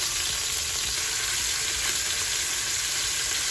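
Beef steak searing in a single layer in a pan, a loud dense steady sizzle that holds evenly throughout, close and with no voices.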